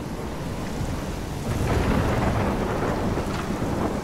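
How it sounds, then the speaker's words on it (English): Thunderstorm in the video game Life is Strange, with steady heavy rain and a deep rolling rumble of thunder swelling midway through, loud and continuous with no voices. "I'm trapped in a storm?"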